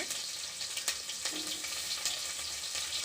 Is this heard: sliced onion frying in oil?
yes